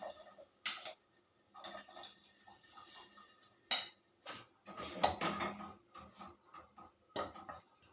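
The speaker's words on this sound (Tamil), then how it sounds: "பருப்பு வந்து நல்லா கடைஞ்சிடுவோம்." Cooked lentils are mashed in a pot for tomato rasam, giving intermittent clinks and scraping knocks of a utensil against metal, irregular and close, with no talking.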